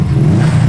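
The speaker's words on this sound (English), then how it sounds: "Give it a rev." A Subaru's engine gets a quick rev up close, a loud, deep, droning burst of engine note lasting well under a second.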